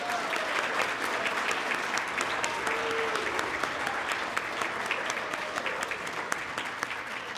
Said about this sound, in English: I think we should give a round of applause to the escorts